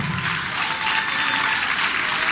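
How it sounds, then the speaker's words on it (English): An audience gives a dense, continuous round of applause, many hands clapping at once at steady volume with no speech over it. "Let's give him a round of applause."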